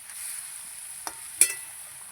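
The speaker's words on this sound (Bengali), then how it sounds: "তাহলে সর্ষের সঙ্গে মাছগুলো বেশ একটু কষানো হয়ে গেল।" Hilsa fish pieces in mustard paste being stirred and fried in a pan, a soft steady sizzle with two brief scraping knocks of the utensil, fairly quiet and without voices.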